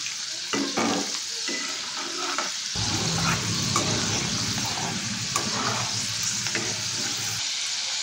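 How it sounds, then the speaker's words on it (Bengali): Peanut pakoras frying in hot oil over a low gas flame and being turned with a spatula, a continuous close sizzle with scraping stirs and brief clinks, steady and loud throughout. "এবার এইভাবে উল্টে পাল্টে গ্যাসের ফ্লেমটা লো করে কিন্তু এটাকে ভেজে নিতে হবে।"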